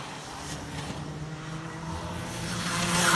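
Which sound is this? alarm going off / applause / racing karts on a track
racing karts on a track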